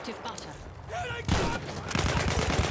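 Gunfire rattles in Battlefield 1 multiplayer, bursts of loud rapid shots and distant blasts that grow denser toward the end, while a player talks over them.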